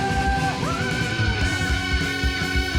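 Heavy metal singer letting out a sustained high scream with sliding pitch over loud, dense distorted guitars and pounding drums in a full-band recording.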